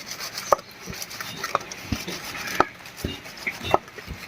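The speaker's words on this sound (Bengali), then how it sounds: "শুধু একটু লবণ দিয়ে এই ছাঁকনি তলায় ঘষে ঘষে ধুয়ে নিলেই পরিষ্কার হয়ে যাবে।" Fish rubbed with salt against the bottom of a strainer to scrape off scales in a village kitchen: scattered scraping strokes and sharp knocks about once a second, fairly close, over low background noise.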